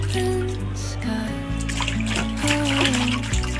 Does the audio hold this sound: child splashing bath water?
yes